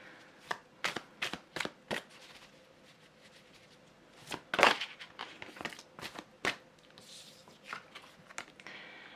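Tarot cards are shuffled close up in a series of crisp riffles and flicks with irregular pauses between them.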